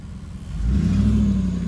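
A Dodge Dakota pickup truck's engine revs up and accelerates toward a jump, a near, loud mid-pitched roar that swells after a quieter start and holds steady.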